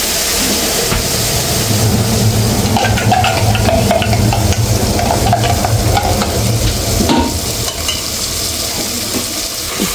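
Goyri fish fries in hot oil while being stirred, producing a loud, continuous sizzle with scraping and clinking from the stirring, close up and steady throughout.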